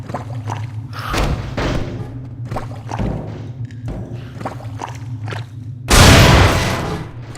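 Gunfire in the video game Half-Life 2: Estranged rings out as a series of sharp, separate shots spaced irregularly across the scene, ending in a louder, heavier blast near the end, with no talk.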